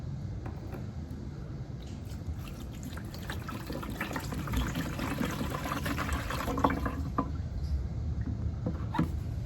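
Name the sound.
vinegar poured into a container with bolts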